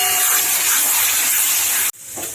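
Water splashed into a pan of frying turmeric, cumin, coriander and chilli powder for a rohu fish curry, giving a loud, bright sizzling hiss that holds steady, then cuts off abruptly and returns weaker.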